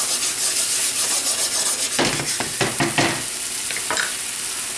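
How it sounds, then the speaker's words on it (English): Tomato pulp cooks in a hot pan, sizzling steadily up close, with a few scraping stirs partway through. "Add in that tomato pulp out of there. I'm going to cook that till it's just about dried out."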